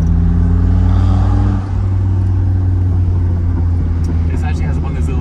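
A Maserati Shamal engine running through straight-pipe exhaust, loud and close, with a deep throbbing rumble that drops in pitch as the revs fall, then settles into a rough idle.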